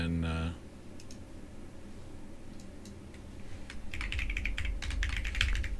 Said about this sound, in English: just retype this text.